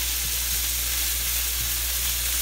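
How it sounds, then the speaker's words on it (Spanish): Ground meat browning in a pan for keto spaghetti bolognese, a constant loud sizzle over a low hum with a few faint stirring knocks. "Lo que queremos es dorar bien toda la carne"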